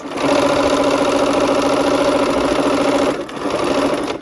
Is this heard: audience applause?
no